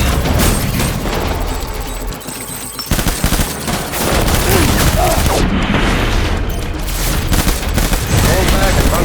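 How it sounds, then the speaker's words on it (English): Death Stranding video game combat in which dense automatic gunfire rattles almost continuously, punctuated by heavy booms from a grenade explosion, loud and close, with shouted voices in the mix. "Toss the frag!"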